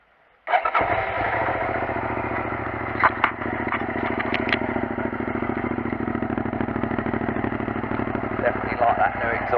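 A motorcycle with a new aftermarket exhaust fires up abruptly and settles into a loud, steady, throbbing idle close by, with a couple of brief throttle blips partway through.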